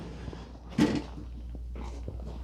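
Double doors of an indoor kitten enclosure built from a stud frame and hardware cloth, giving one sharp close-up knock or latch clack, then a fainter shuffle of movement.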